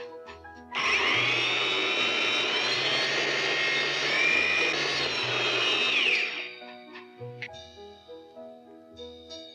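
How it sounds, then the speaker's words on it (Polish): A loud Eldom electric coffee grinder, 1971, whines steadily for about five seconds, then shuts off, followed by quiet clatter. "Młynek do kawy."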